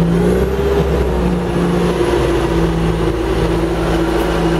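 A John Deere 650J dozer's diesel engine runs loud and close, holding a steady droning throttle note with a slight rise early on and no voices.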